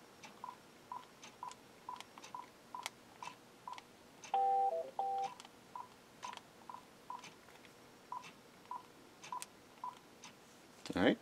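Keypad buttons on a Uniden DECT 6.0 cordless telephone, model DECT1560, being pressed one after another, each giving a short electronic tone in a steady series, close and clear with faint background noise.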